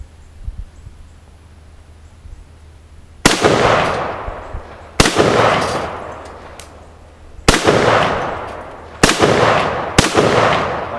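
A Tula-built 1953 Russian SKS rifle fires five sharp, loud shots outdoors, each with a ringing echoing tail, spaced irregularly after a quiet start and coming faster toward the end.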